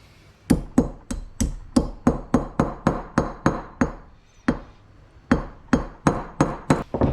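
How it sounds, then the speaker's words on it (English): A hammer taps a trailer wheel bearing race in a steady series of sharp, ringing metal strikes, about twenty hits with a brief pause midway, close and fairly loud. "gently tap around with a hammer."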